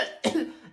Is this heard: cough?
yes